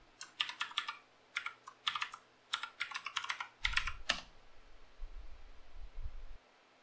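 Commands typed on a computer keyboard while updating a Fedora Linux system: bursts of quick, close key clicks in short runs, ending with a heavier keystroke, quiet and alone with faint background rustle.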